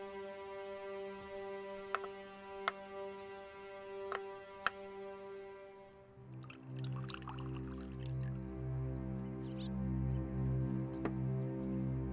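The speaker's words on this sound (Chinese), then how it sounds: "那我为您斟杯茶" Tea poured into a cup, a steady liquid stream starting after a quiet stretch with a clock ticking, close and continuous, with no talking.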